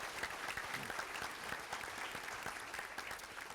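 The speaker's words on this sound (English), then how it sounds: "Let's please have a round of applause for all of our sponsors." Steady applause from a seated crowd at a June 2019 power breakfast event, dense and continuous without a break, at a moderate distance and fairly quiet.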